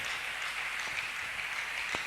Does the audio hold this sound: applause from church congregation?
yes